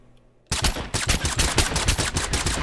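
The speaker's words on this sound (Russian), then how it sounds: "Куда он стреляет?" Sudden burst of rapid automatic gunfire after a short quiet moment, loud and sustained with dense repeated shots, from combat in the video game Totally Accurate Battlegrounds.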